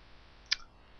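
One crisp computer mouse click while someone navigates a Drupal 7 site: a single short, sharp tick near the middle, faint and alone against quiet room noise.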